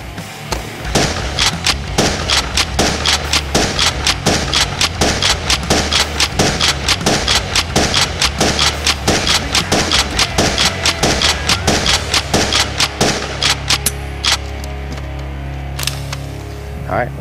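A NERF N-Strike Elite Retaliator blaster fires darts from an 18-round magazine in a rapid, steady string of sharp snapping shots, close and loud, that slows and stops near the end.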